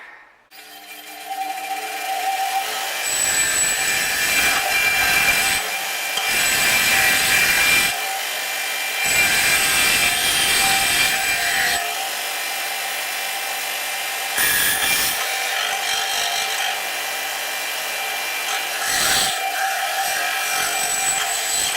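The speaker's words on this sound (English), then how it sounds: "My bench grinder has a very coarse wire wheel on it here, so what it's actually was taking off the chrome pretty well" Bench grinder fitted with a very coarse wire wheel stripping chrome from a Footprint hand plane, heard as loud repeated bursts of harsh grinding and scraping separated by short pauses while the motor keeps whirring.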